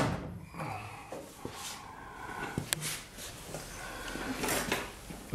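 The door handle of a car, linked by a bent rod and bellcrank, is worked with a few quiet mechanical clicks and clacks, close by and without talk.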